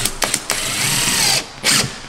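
A power drill drives number 10 pan-head screws into wood in a metal fabrication shop: short whirring bursts, then one longer run and another brief burst, close and fairly loud with no talk.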